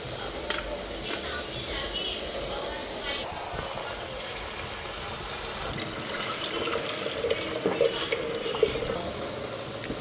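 Cut banana flower gets washed in water in a metal bowl, with splashing, sloshing and occasional clinks of the pot over ten seconds, and a person talks in the background.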